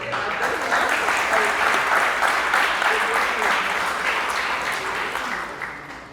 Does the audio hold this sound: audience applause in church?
yes